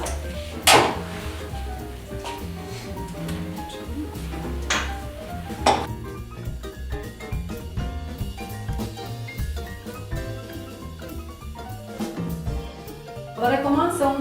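Metal baking molds for lava cake clatter and knock as they are picked up and set down, with sharp clanks near 0.7 and 5.7 seconds and lighter rattling throughout, over background music.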